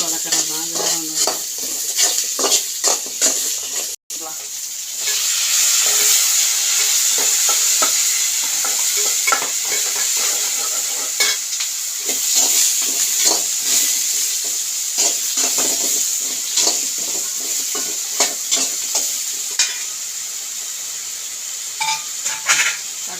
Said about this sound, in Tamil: தக்காளி வதங்கிறது கொஞ்சம் உப்பு போட்டுக்கோ.